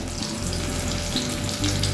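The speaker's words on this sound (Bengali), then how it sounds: "পটলগুলো কিন্তু ভালো করে ভাজবো" Pointed gourd (potol) pieces fry in hot oil with a steady, close, continuous sizzle and crackle, with no voices.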